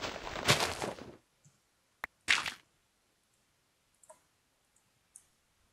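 A door in the Minecraft video game: a burst of noise, then a sharp click and a second short burst, followed by a few faint scattered ticks in near silence.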